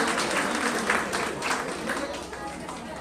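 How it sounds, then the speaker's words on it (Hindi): Audience applause at a Poddar Vaishya Mahasabha gathering in West Bengal, a thick sustained roar of clapping from a crowd, with voices mixed in underneath. "तालियों की गड़गड़ाहट कम नहीं होनी चाहिए।"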